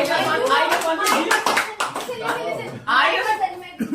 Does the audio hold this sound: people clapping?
yes